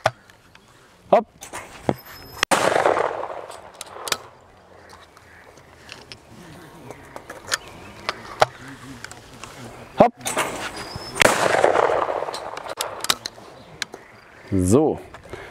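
Two loud over-and-under shotgun blasts, far apart, each leaving a rumbling echo, with scattered clicks and a voice talking briefly near the end.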